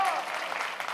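A church congregation applauding together during a Sunday service, a steady wash of clapping filling the one-second clip at moderate volume.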